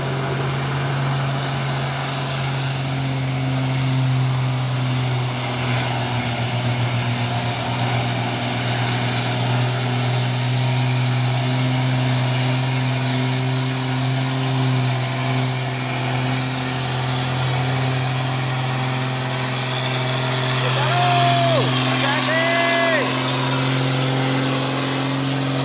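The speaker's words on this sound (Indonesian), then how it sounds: "Masuk lagi truk tronton busoren" A tronton dump truck engine drones steadily at low pitch, a continuous diesel rumble holding at moderate loudness for the whole stretch, with faint higher sounds briefly near the end.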